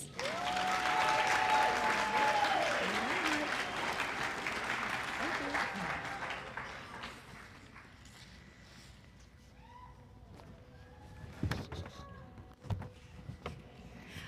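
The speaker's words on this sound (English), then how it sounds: "Applaud that hard work because you all earned it." Graduation ceremony crowd clapping and cheering for the graduates, a dense, loud ovation that gradually thins and fades into scattered claps, with a few whistles and some background noise.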